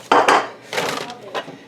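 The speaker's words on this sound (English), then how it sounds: "I'm going to pound the piss out of this broccoli because it's all frozen together." Frozen broccoli gets pounded in a dish, producing heavy thuds and clattering knocks in two quick strikes, then a rougher scraping bang and a lighter knock, close and loud.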